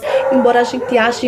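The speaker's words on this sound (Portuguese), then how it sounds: "porque o cachorro agora começou a latir" A dog nearby lets out a series of yelping, howl-like barks indoors, loud and close, overlapping someone talking in Portuguese.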